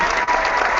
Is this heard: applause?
yes